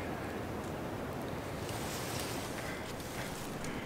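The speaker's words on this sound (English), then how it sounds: "It's a windy day today." Wind blowing outdoors on a walk on a windy day, a steady, full roar of gusts buffeting the microphone for the whole stretch, with no speech.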